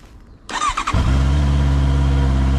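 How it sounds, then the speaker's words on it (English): A Honda E-Clutch motorcycle engine cranks with a brief starter whir, catches, and settles into a close, steady idle rumble, with no talk. "I'm going to start the bike"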